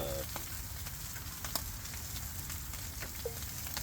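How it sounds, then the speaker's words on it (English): Bacon sizzles steadily in a pan, a dense crackling hiss with occasional sharper pops, fairly close and continuous. "This bacon will cook still in here because it's still sizzling"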